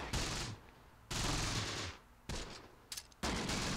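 Bursts of gunfire from the WWII tactics game Close Combat: The Bloody First, in an Omaha Beach D-Day battle: loud rattling volleys cut in and out, with short pauses between and a couple of sharp isolated shots near the end.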